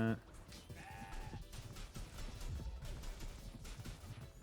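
A goat bleats in the video game CrossCode, a short wavering cry near the start, amid game sound effects and background music, with a voice talking over it.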